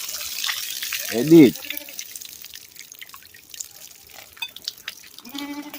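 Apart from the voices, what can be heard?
watering fruit trees with water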